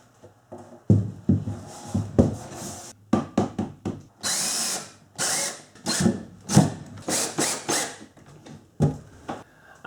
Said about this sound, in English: I've got the cabinet secured to the wall with a few screws